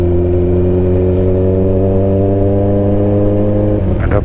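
Motorcycle engine on a touring ride in Bali, a loud, steady drone held on the throttle with a drop in pitch near the end.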